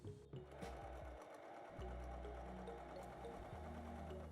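A heavy-duty sewing machine stitching through folded fabric layers, with a steady close mechanical hum and rapid needle thumping. There is a short pause before it runs on evenly.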